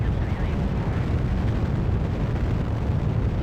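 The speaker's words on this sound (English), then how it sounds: "Minor explosion." An explosion in the video game Kerbal Space Program, heard as a dense, loud, continuous rumbling roar that holds steady for several seconds with no clear pauses.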